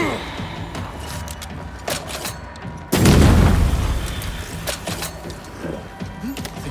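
A loud boom of enemy gunfire erupts in the video game Banishers, one sharp blast followed by a rumbling decay, set among quieter clanks and game ambience.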